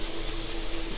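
An airbrush sprays thick opaque blue paint in a steady, close hiss with a faint low hum underneath, continuous for a brief moment.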